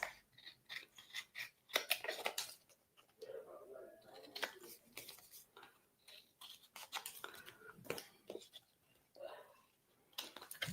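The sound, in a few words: trimming card edges with scissors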